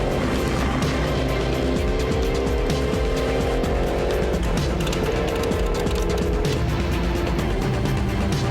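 Tuned Camaro race car accelerating hard at the Texas Mile, a loud sustained engine roar with rising pitch through the gears, close and continuous.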